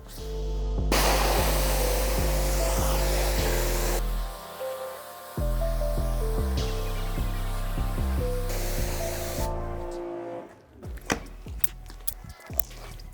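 A pressure hose sprays water onto a rubber car mat in a steady hiss that stops and restarts several times, with a sharp stop, a short gap, then a few clunks and handling noises at the end.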